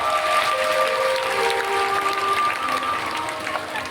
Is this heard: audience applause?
yes